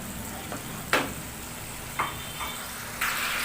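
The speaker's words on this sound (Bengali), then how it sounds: "মশলাটাকে কষিয়ে নেব।" Spice paste with coriander powder and a little water frying in oil for Bengali egg curry: a steady, close sizzle with soft spoon scrapes and a few sharp clinks against the pan.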